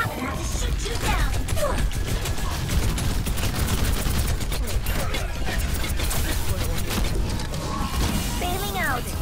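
Rapid, continuous automatic gunfire from D.Va's mech in Overwatch on the Horizon Lunar Colony map, loud and close, with missile bursts, clanking impacts and game effects layered throughout.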